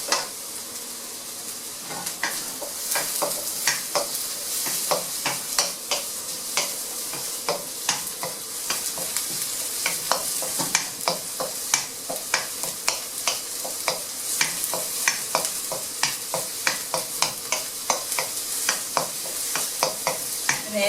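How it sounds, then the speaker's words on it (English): Fried rice sizzles steadily in a pan while a utensil scrapes and taps through it in quick, repeated strokes, close and fairly loud, with no voices heard. "Let's keep stirring until it's golden brown."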